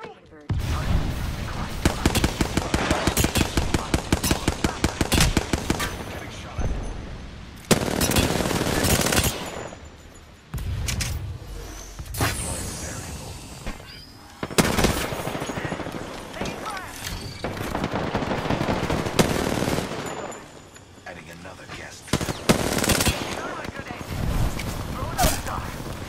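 Rapid automatic gunfire from Apex Legends on PS4, with a Hemlock and an R99 in play, rattles in long loud bursts separated by short pauses. The shots sound close, and game sounds fill the gaps.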